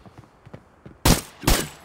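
Two loud, close gunshots from the Arena Breakout mobile shooter game, spaced about half a second apart, each a sharp broadband crack with a short tail, following faint quiet footstep-like ticks.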